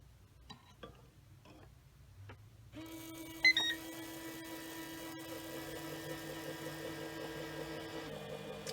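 A Hornady Auto Charge Pro powder dispenser runs with a quiet, steady motor hum lasting about five seconds, preceded and accompanied by faint clicks and ticks, then stops.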